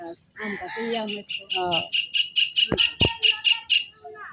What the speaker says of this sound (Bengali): কি সুন্দর পাখি ডাক পারতেছে